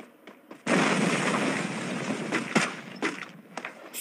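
Gunfire in the Free Fire video game erupts as a sustained loud burst of rapid shots, with a few sharper single cracks toward the end.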